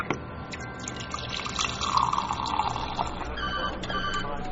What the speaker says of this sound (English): Iced water being dispensed.